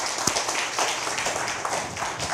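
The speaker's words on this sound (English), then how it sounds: "Let's clap for that." Audience applause on a live finance talk show, a continuous bright spatter of many hands clapping at moderate volume throughout.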